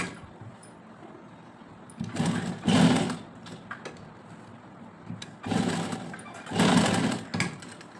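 A sewing machine stitches a border strip onto a dupatta in two loud bursts of rapid whirring, each rising to a peak then stopping, with quieter gaps and small clicks between.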